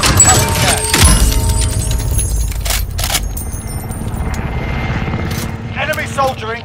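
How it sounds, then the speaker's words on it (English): An enemy attack helicopter in the Call of Duty: Modern Warfare video game, loud rotor thrum under dense gunfire, shattering and explosions, with voices talking over the battle. "Enemy attack chopper is in the AO."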